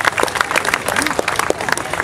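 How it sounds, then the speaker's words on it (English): Crowd clapping outdoors at the Martlesham Heath Aviation Society's 15th-year open fun day, a lively burst of scattered hand claps from a mid-sized audience with some voices mixed in. "I think that deserves a round of applause, don't you, for its 15th year?"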